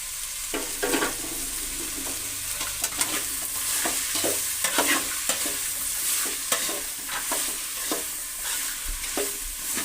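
Dried avarekalu and other ingredients sizzle steadily in hot oil for a Karnataka-style saaru, with a bright continuous frying hiss broken by repeated stirring scrapes and clicks of a spoon in the pan, close and loud, no talking.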